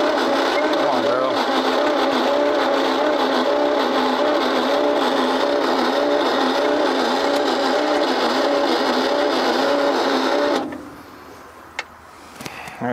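An old truck abandoned in the woods for over 50 years cranks as someone tries to start it, the starter churning in a steady, loud rhythmic whir for about ten seconds before stopping, with no catch.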